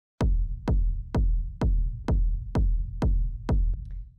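A punchy techno kick drum made from a 909 drum machine thumps eight times in a steady four-on-the-floor pulse, deep and booming, each hit decaying into a low rumble, with nothing else playing.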